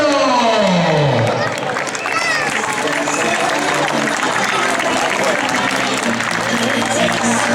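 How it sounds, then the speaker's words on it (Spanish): Spectators clap and cheer along the course of a carnival footrace in Vigo, steady and close throughout, with an announcer talking over the applause and a falling tone at the start. "Ese fuerte aplauso."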